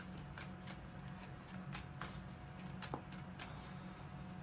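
Soft, repeated riffling of tarot cards being shuffled close by, a quick papery flutter recurring in short bursts, quiet and without voices.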